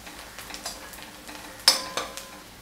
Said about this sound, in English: Just keep continuously mixing it, stirring it, and just keep monitoring that it doesn't get burnt, but it only has to saute well.